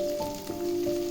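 Green chilies frying in hot oil with garlic for an okra dish, a steady close sizzle with a faint tonal hum running through the whole short stretch.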